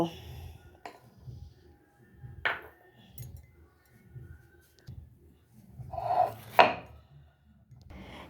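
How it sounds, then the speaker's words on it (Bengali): Onions being ground into a paste make rhythmic, muffled rubbing strokes, repeated roughly every second at close range, broken by a few sharp knocks and clinks near the end. "এবার আমি পেঁয়াজগুলো বেটে নেব"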